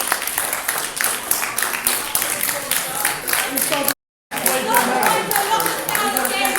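A crowd claps at a rowdy confrontation with someone, dense uneven applause running throughout and mixed with steady talk, broken by a brief dropout near the end.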